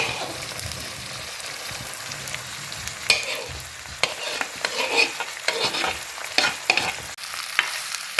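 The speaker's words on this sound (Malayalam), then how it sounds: "ഇനി നമുക്ക് അരിഞ്ഞ് വെച്ചിരുന്ന നാരങ്ങ ഇടാം ഫുള്ള് ഇതിലോട്ട് ഒക്കെ നന്നായിട്ട് നല്ല കുറേ നേരം നമുക്കൊന്ന് വഴറ്റിയെടുക്കാം" Chopped lemon for a pomegranate and lemon pickle sautés in a pan, a close bright sizzle broken by frequent scraping stirs and clacks of the spoon against the pan, with no talk.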